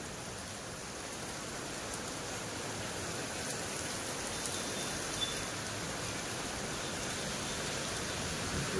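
Heavy rain pours down steadily during a rainy Navratri outing, a dense, even hiss that stays constant throughout with no voices.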